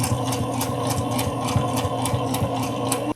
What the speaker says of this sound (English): Now I'm just going to sew 1/4 inch all the way down, taking my pins out as I go